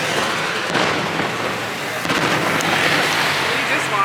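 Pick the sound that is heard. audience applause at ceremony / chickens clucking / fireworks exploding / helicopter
fireworks exploding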